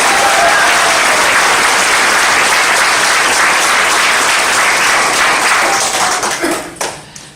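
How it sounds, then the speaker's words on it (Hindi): Loud, dense audience applause at a large indoor training event, sustained clapping from a big crowd that tapers off and fades out over the final second. "सबसे पहले तो मैं प्रदीप्ता जी के लिए चाहूंगा एक बार अभी तक की दमदार ताली।"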